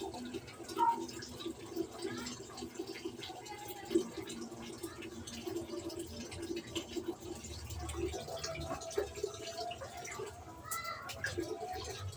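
Tap water runs and splashes into containers being filled during a water shortage, a steady trickling and dripping with occasional louder splashes, with people talking over it throughout.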